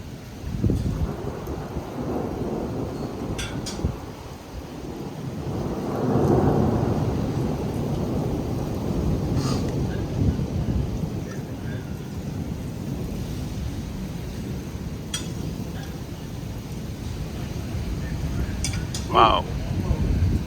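Windy thunderstorm with heavy rain in Plano, Texas, a steady roar of wind and rain throughout with low rumbles of thunder swelling midway and brief sharper bursts, voices faintly present beneath.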